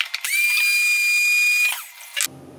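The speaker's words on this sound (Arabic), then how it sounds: "دابا انا هادشي غادي ندير، غندوز نطحن هادشي ونطلقاو" An electric grinder whirring as it grinds toasted spices, a steady high motor whine lasting over a second that cuts off sharply, close and loud.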